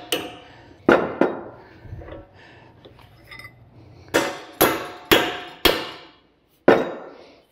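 Heavy hammer blows ring on a metal bar held in a vise, a pair of strikes followed by a quick run of four and one last ringing hit, each with a sharp clang.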